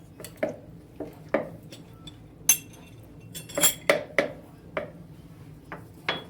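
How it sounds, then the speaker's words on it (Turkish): Pizza dough mixture being stirred in a bowl, with a utensil clinking and tapping against the sides in irregular, close, light knocks and a few sharper clinks. "Evet bu şekilde karıştırdık ve şimdi bekleyeceğiz"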